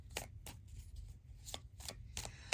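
Tarot cards shuffled by hand in a quiet room, giving soft, papery riffles in a loose repeating rhythm, faint and close.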